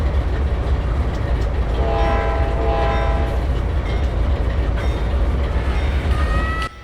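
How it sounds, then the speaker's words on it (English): A CSX locomotive pulling the Q458 train departing Moncrief Yard, with a continuous loud rolling rumble and a horn sounding in the middle, plus a shorter horn note near the end. "Here we are departing from Moncrief Yard on my train, the Q458, to Waycross."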